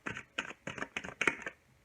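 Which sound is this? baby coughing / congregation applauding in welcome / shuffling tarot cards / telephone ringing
shuffling tarot cards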